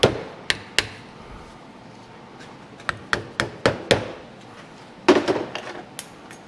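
A hammer striking the end of a screwdriver during a Case 580SK backhoe hydraulic cylinder repair, sharp metallic taps in irregular bursts, some single and some in quick clusters, close and fairly crisp.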